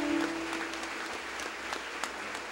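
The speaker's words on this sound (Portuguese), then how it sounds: "nós o recebemos com uma grande salva de palmas para Jesus" A congregation applauds at a religious state congress in Rio Grande do Sul, a sustained, moderately loud hall-wide clapping with a brief tone at the start and a few sharper claps near the end.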